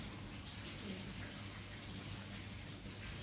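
Running water from a tap gushes steadily while dyed hair is rinsed, a constant faint wash of splashing with no pauses.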